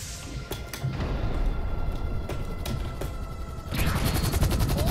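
Rapid gunfire from a tank and soldiers in a video game crackles in repeated loud bursts, with a denser barrage building near the end.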